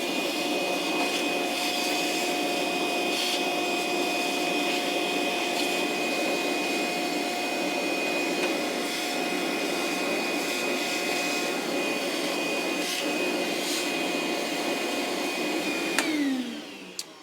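A DeWalt DCV581H cordless wet dry vac runs continuously with a steady high whine and airflow roar while sucking up wood chips near a saw, then cuts off sharply near the end.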